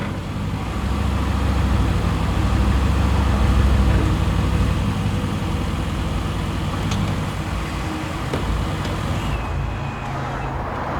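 A Mercedes AMG GT Convertible edges into a tight parallel parking space, its engine idling steadily with a low rumble throughout, accompanied by faint background road noise.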